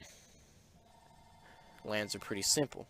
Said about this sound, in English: I am so fucking sorry about that phone.